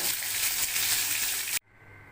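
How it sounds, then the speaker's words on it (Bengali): Pomfret fish fries in hot oil with a loud, dense, steady sizzle that cuts off abruptly, leaving a faint low background hum. "মাছ ছেড়ে দেবো মাছটা আস্তে আস্তে ভাজতে দিতে হবে"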